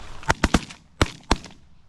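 Shotguns fire during an Alberta duck hunt, five sharp blasts in quick succession, three close together and then two more, each loud with a short outdoor decay.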